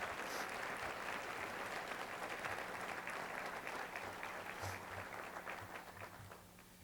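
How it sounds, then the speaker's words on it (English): Audience applause at a 2005 sports hall of fame induction ceremony honoring past inductees, a dense, continuous wash of many hands clapping in a hall that holds steady, then tapers slightly toward the end. "Please join me, everyone, in giving these past year inductees a round of applause."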